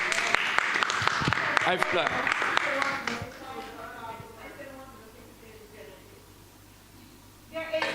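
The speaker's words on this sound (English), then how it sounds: "Give her a round of applause, please, everybody." Crowd applause rings out for a few seconds at a community service training session, then fades into murmuring room noise, with a brief burst of clapping returning near the end.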